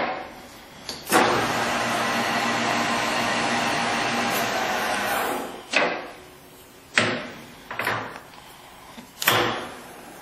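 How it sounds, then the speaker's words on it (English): A Servo 16.5 x 40 lathe spindle jogged on and off, with a steady motor whir for several seconds, then a series of short bursts as the spindle starts and stops, heard close with no talk. "it looks like he's exercising his jog spindle button"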